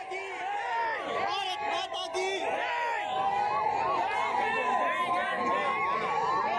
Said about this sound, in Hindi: भारत माता की जय के नारे, वंदे मातरम के नारे